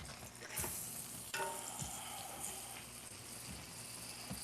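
Butter sizzling in a frying pan alongside potato and bread, a steady broadband crackle with a few sharper spits and pops, close and moderately quiet throughout.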